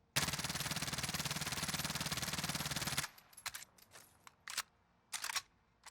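A Mac 10 submachine gun without a speed round magazine fires a loud, steady full-auto burst of about three seconds in the Warzone video game, followed by a few sharp clicks and short mechanical bursts.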